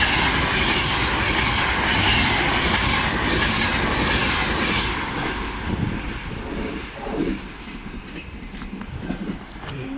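A Class 323 electric train pulls away from a station at Motherwell, its loud broadband rumble and wheel noise holding steady at first, then easing and fluctuating as it recedes.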